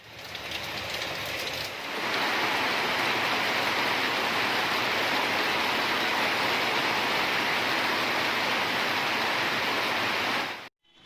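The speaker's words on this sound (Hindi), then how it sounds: "बरसात आरंभ हो चुकी है, लेकिन नाले भरे हुए हैं" Steady, loud rush of rain and water pouring through a full, uncleaned street drain at a city crossing, a dense continuous roar that swells after the first two seconds and cuts off abruptly at the end.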